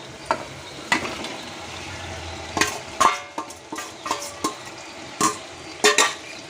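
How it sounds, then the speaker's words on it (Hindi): Mutton pieces being stirred and fried in oily masala for curry, a close spoon scraping the pan in irregular strokes over a steady low sizzle. "मसला सह मिक्स करबा।"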